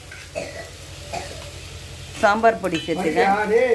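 Crab sizzles and hisses in a hot pan, a soft steady frying sound that continues as a person begins talking over it.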